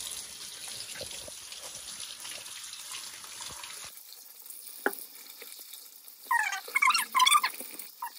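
Kitchen tap water running as new potatoes are rinsed, a steady broadband hiss for about four seconds that stops, followed by quieter sink clatter and a few splashing bursts near the end.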